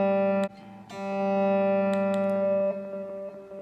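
Sustained electric guitar tones through a delay effect on a Boss Katana amp, repeating echoes trailing each note, a few sharp picked attacks ringing out and decaying.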